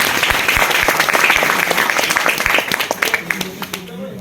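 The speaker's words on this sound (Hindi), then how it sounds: "एक बार आप लोग जोरदार तालियों के साथ" An audience bursts into loud, close applause, dense and energetic at first, then breaking into scattered individual claps as it tapers off, with a voice faintly present beneath.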